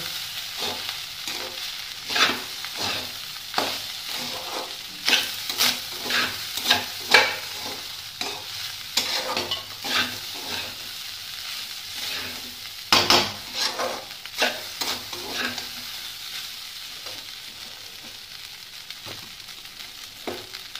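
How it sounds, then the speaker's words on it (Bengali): Fried rice is tossed with spices in a frying pan, a spatula scraping and clattering against the pan in rhythmic strokes over a soft background sizzle, close and fairly loud. "এবার ভালো করে প্রতিটা মশলাগুলোকে মিক্স করে নেব।"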